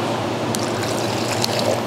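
Water pours into the bowl of a 2023 digital soft-serve ice cream machine during cleaning, a steady trickling splash with no talking.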